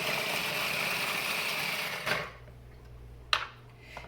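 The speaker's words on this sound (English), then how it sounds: "we're just going to throw a bunch in a food processor" A food processor grinds a fist-sized handful of turmeric, a loud continuous whirring buzz that cuts off abruptly about halfway, followed by quieter handling noises and a sharp clunk.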